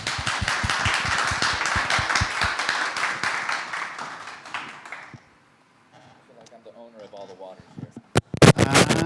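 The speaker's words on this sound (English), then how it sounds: "and big applause from the audience." Audience applause at a blockchain and cleantech event, loud sustained clapping that fades away after about five seconds, followed by a lull with faint talk and a few sharp knocks.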